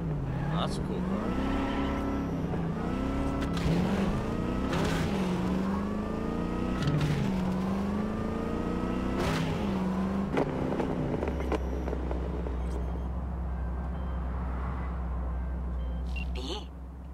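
A car in Cyberpunk 2077 drives with its engine revving up and down through rising and falling gear changes, then settles into a low, steady rumble. Speech runs over the driving sound.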